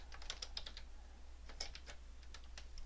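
Keys tapped on a computer keyboard in short quiet bursts, a cluster of quick clicks followed by a pause, then another scattered run of keystrokes nearby.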